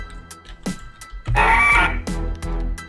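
A Gallimimus dinosaur call in a video game: a clucking, crowing bird-like cry rises in the middle, framed by short squawks and soft footstep-like thuds.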